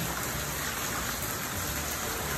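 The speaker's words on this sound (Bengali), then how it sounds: "বৃষ্টি হতে হতে কখন যে বারান্দায় পানি চলে এসেছে" Steady rain pours outside a home in Florida, a dense, even hiss with no pauses, heard at moderate distance with no voices.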